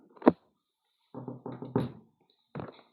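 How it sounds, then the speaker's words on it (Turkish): Knocking on a door in the video game Hello Neighbor: one sharp knock, then a pause and a quick series of raps, ending in another short knock, all loud and close. "Kapısını çalacağım."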